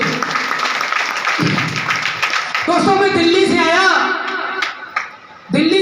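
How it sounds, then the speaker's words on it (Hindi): Clapping from an audience at a business meeting in India, a short burst of hands that overlaps with someone speaking Hindi over it and fades into his voice. "एक बार AWPL का जोरदार तालियां मुझे दो"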